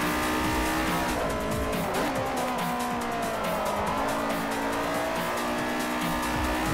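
A Mercedes race car in the video game Forza Motorsport 4 roars steadily with a loud, continuous engine drone and repeated tire squeals while cornering.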